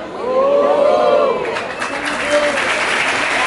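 Loud crowd applause and cheering at a Brazilian street rap battle, dense clapping filling the space with voices shouting and talking over it throughout.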